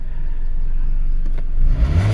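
A 2005 Toyota Caldina engine with a fuel pressure fault (P0191) being revved, a low steady engine rumble that swells into a short rev near the end, close and without talk.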